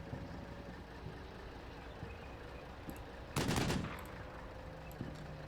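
A Humvee's .50 cal machine gun fires in Combat Mission Black Sea, heard as one short loud burst against a steady low rumble of background game noise.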